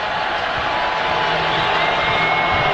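A basketball crowd at Stegman Coliseum during an overtime free throw, a dense roar of cheering and shouting that holds steady and loud from start to finish.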